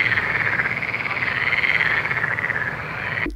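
A frog croaking in a fast, rapid pulsing trill that runs continuously and close up for several seconds, loud and alone, ending abruptly.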